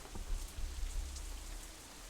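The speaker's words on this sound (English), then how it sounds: "The rain increases a little more, offended that we haven't fled yet." Steady rain pattering on a surface in the visual novel Katawa Shoujo, with a constant low rumble and scattered drops throughout.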